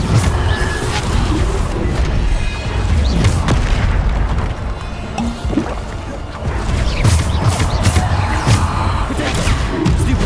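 Bombarda spell blasts in Hogwarts Legacy, a dense run of loud booming explosions and crashing impacts in a continuous battle din, with faint voices in the background.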